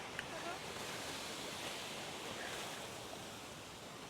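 Ocean waves break at Carrizalillo beach in Puerto Escondido, Mexico. The surf makes a steady broadband wash, with some wind noise on the microphone and no clear voices.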